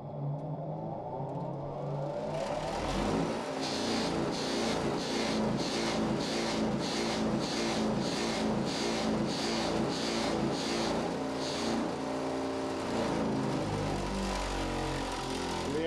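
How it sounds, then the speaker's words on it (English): A buff wheel restoring the luster on a tablet press punch head flat: a steady, loud motorized whir that spins up and holds, with a pulsing rhythm through the middle, and no voices. "I'm going to show you a way to refurbish that by using the buff wheel."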